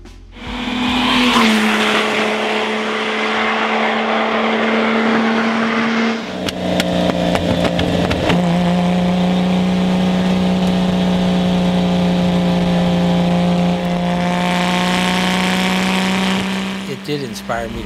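A Lamborghini Miura sports car engine drones loudly and close, its pitch stepping down and then holding steady as it drives, with a couple of sharp shifts midway and some voices underneath.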